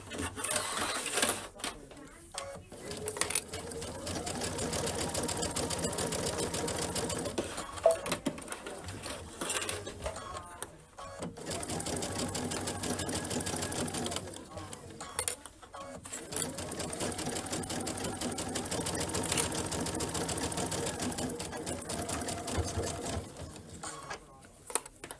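A sewing machine stitching a belt bag with a 2.5 stitch length, running in steady buzzing bursts separated by short pauses, close and fairly loud.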